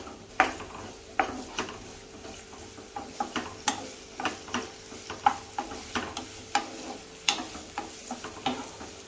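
Onion frying in hot oil for egg masala, with a spoon scraping and tapping the pan in a regular rhythm of sharp clicks over a low sizzle, close and fairly quiet, no talking.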